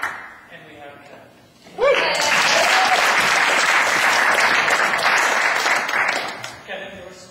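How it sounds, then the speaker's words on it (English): An audience at a final-round competition breaks into loud, sustained applause lasting about five seconds, with brief talk before it and again as it fades. "So give him a big round of applause."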